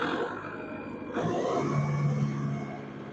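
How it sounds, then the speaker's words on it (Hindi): A tractor engine runs at 2200 rpm, producing a quiet, steady droning hum with a rougher, throatier rise partway through. "इस समय 2200 आरपीएम पर ट्रैक्टर है।"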